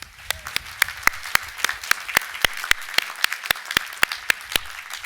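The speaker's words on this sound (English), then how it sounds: "Join me in a round of applause." Applause at a 2019 Hood College commencement ceremony, heard as a steady run of sharp, closely miked claps, loud and regular, with crowd applause softer behind.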